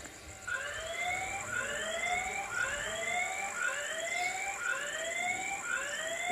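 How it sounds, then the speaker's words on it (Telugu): Electronic security siren at a property watched by CC cameras, rising wail sweeps repeating about every half second, steady and moderately loud, with a constant high tone running underneath. "మేము గమనిస్తున్నాము అని చెప్పటానికి వీలుగా సైరన్ కూడా మోగుతూ ఉంటుందండి"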